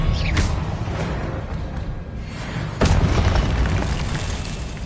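Confringo blasting spell explosions in the game Hogwarts Legacy: booming bursts over a continuous loud rumble, with a sharp blast near the start and another strong hit later, dense and close.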